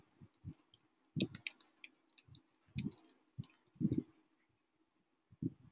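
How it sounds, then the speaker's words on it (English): Keystrokes on a computer keyboard while an email ID is typed, a scattering of separate soft clicks in small irregular bursts with pauses between, fairly close and quiet. "I am typing my email id here."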